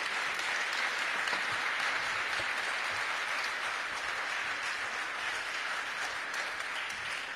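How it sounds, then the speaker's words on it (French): A conference audience claps at the close of a panel on environmental strategy. The applause is dense and continuous, rather faint and even, and lasts the whole stretch with no voices over it. "Je pense qu'on peut les applaudir."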